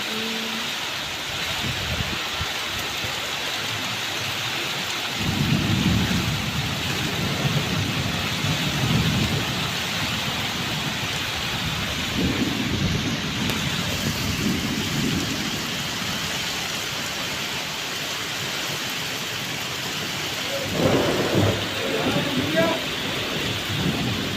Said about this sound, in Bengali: এভরিওয়ান বৃষ্টিটা দেখো